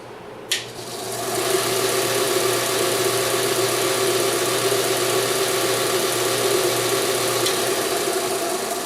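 BUCKTOOL dual speed belt sander grinder switched on and running at low speed, a click then a motor whine spinning up within a second and settling into a steady, close mechanical hum.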